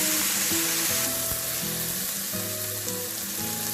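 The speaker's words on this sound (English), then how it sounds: "I'm going to cook the onions until they are light brown" Onions fry in a pan for curried chickpeas with a continuous, even sizzle that holds steady throughout, while soft background music with sustained notes plays underneath.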